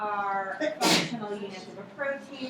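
A single sharp sneeze bursts out in a lecture hall on DNA binding motifs, loud and brief, cutting across a lecturer's ongoing speech that continues before and after it.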